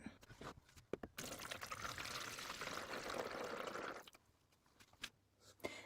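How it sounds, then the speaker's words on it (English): Water pours steadily into the reservoir of an indoor hydroponic growing system for about three seconds, a close, sustained splashing fill that stops abruptly, followed by a few soft handling clicks and knocks. "you're going to want to pour the water into that"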